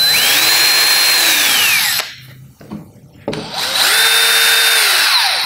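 A Stanley SBH201D2K brushless cordless hammer drill whirs loudly at a steady high pitch, spins down to a stop, then after a short pause revs back up to full speed, close by with no talk.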